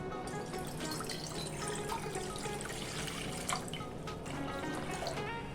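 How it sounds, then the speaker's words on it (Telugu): Water streams steadily into a pan on a stove, three glasses' worth poured while cooking cauliflower for gobi 65, a continuous splashing rush with light drips, close and fairly loud, no talking. "ఇప్పుడు మనము స్టవ్ ఆన్ చేసి ఒక ప్యాన్ పెట్టుకొని ఇందులోకి 3 గ్లాసుల నీళ్లు వేసుకోవాలి"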